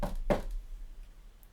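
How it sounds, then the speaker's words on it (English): Two firm knocks on a door, close and distinct, followed by quiet room tone. "by a firm knock on the door"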